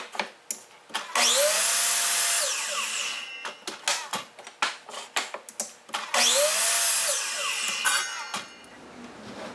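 A power saw makes two matching cuts in wooden parts set against a stop block at 7 inches, each a loud sustained whine of about two seconds, with bursts of handling and clatter between and after the cuts.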